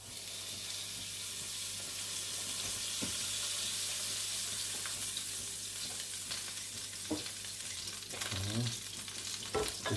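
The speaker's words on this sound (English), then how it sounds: "we'll just add a small nub of butter." A small nub of butter melts and sizzles in a frying pan previously used for ham and onions, giving a steady close crackling hiss with occasional small pops and a few clinks near the end.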